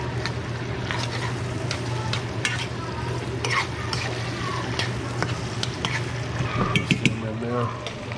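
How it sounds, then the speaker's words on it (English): Shrimp sizzle steadily in a pan of garlic and butter, a dense close crackle with frequent sharp pops and clicks of stirring utensils throughout. "Shrimp down, got that garlic and butter,"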